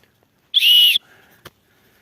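A whistle built into a rechargeable LED flashlight (model W5144) gives one loud, shrill, steady blast lasting about half a second, followed by faint handling noise and a brief click.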